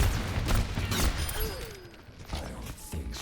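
Gunfire in an Overwatch match: a busy spread of repeated shots and impacts over low rumbling game noise, fairly close and continuous, with no clear talk over it.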